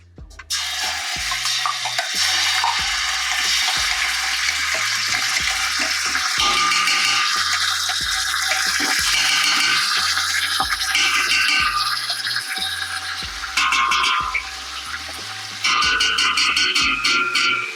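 Steady, loud sizzling of tomato paste frying in plenty of hot oil for lecho, with stirring scrapes and a rhythmic low thumping running throughout.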